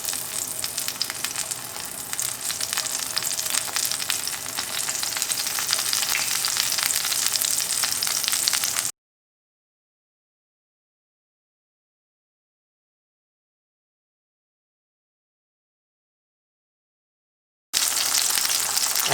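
Tomatoes fry in a pan with a loud, steady sizzle that continues for about nine seconds, breaks off into complete silence, then resumes just as strongly.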